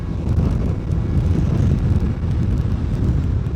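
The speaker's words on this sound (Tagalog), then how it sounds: "Malakas hangin ah." Strong, steady wind buffeting the microphone during a motorcycle ride beside a gas station, a loud low roar that continues throughout with no speech.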